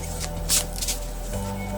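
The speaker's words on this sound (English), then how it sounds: "Okay, so we'll shuffle the cards and see what comes." Tarot cards being shuffled, a soft papery riffle with a brief louder burst partway through, close by in a quiet room.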